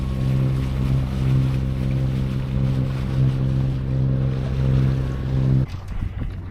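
A sailboat motors south through the main harbour channel near Marmaris, its engine a steady loud drone with a constant low hum and wash of water, then cutting off abruptly near the end.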